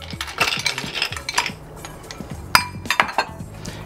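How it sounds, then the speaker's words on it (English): Ice cubes clink and rattle into a cocktail glass while an Old Fashioned is made, a series of bright, close glassy knocks and chinks, some sharp and loud, with no talk. "Cap that off with a little more ice."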